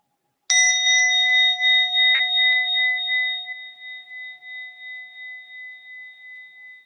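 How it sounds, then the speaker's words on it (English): A single meditation bell is struck once during a guided mindfulness session, ringing out clear and bright and then sustaining a long, slowly fading tone with steady overtones, alone with no talking. "when I ring the bell, pay attention to the bell."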